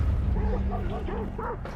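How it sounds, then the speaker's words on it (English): Several quick barks and yips in a fast rhythmic run from dogs in the Hunt: Showdown 1896 video game, clear over a low rumbling game background. "Gotta love triggering the dogs outside"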